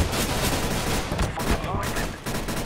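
Gunfire during a CS:GO competitive match, with sharp, loud shots and bursts packed close together against busy game noise.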